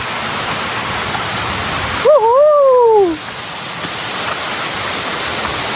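Steady, loud rushing roar of Junani Waterfall in Bargarh, India fills the whole stretch, briefly overlaid by a short whistling tone.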